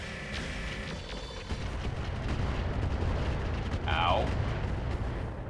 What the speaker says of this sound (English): Rockets? Now that was a heavy hit.